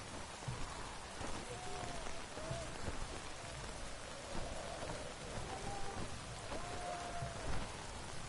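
Steady rain in a video game (The Witcher 3) pours down as a continuous hiss, with a few faint tonal sounds drifting in the background.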